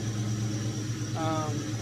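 A 1972 AMC Javelin SST engine idles with a steady low hum, quiet and even, and a brief higher whine rises partway through.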